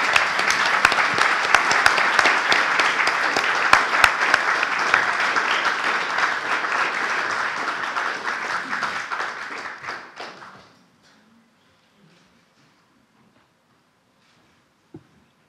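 A hall audience applauds a literary prize laureate honored for a book on politics and theology, a dense, steady wash of many hands clapping for about ten seconds before fading abruptly into near silence, with one faint tap near the end.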